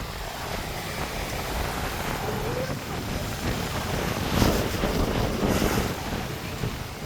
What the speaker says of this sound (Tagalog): Sarap pakinggan ng hambalos sa mga alon.